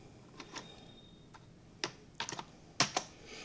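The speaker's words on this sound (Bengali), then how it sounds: "তোমরা দেখতে পাচ্ছ আমি লিখছি ক্যাপচারটি" Keys tapped on a computer keyboard while a captcha is typed into an online application form, a handful of sparse, uneven clicks, close and quiet.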